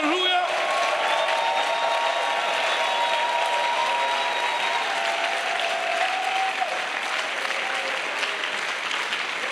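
A church congregation claps and cheers for the Lord in a long, dense burst of applause that fades slightly toward the end, with voices rising through the crowd noise.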